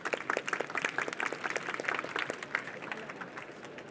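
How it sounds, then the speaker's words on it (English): An audience applauds, many hands clapping in a dense, lively burst that gradually thins out toward the end. "Big round of applause for the first round of pitches."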